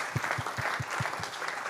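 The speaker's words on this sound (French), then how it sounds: "Je pense qu'on peut t'applaudir" Steady applause from an audience fills the whole stretch, with a low rhythmic thump repeating underneath at a regular pace.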